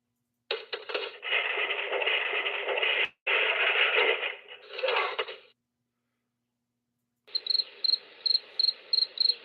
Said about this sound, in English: Stop with the crickets.